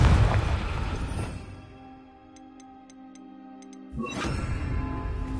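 A Confringo explosive fire spell cast in the Hogwarts Legacy video game, a loud rumbling blast that fades to a quiet lull with faint ticking, then bursts into another loud explosive surge.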